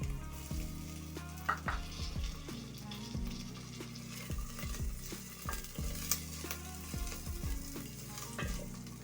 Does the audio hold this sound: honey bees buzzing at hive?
no